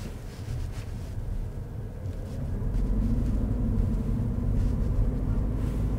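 A steady low engine drone and road rumble inside a moving facelifted Lexus NX F Sport, growing slightly louder partway through, with a faint hiss over it.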